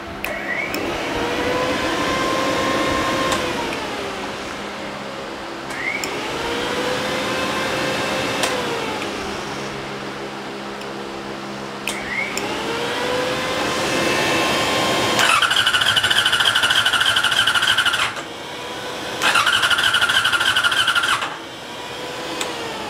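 A Yamaha R6 stunt motorcycle being cranked repeatedly without firing: several long whirring starter bursts separated by pauses, then two higher-pitched whining bursts near the end, close and fairly loud.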